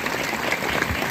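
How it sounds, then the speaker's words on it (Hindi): A brief burst of crowd applause at an outdoor bicycle distribution event in Farsaguda, dense and even clapping for about a second. "आप सभी से अगर जोरदार ताली के साथ में अभिनंदन करें"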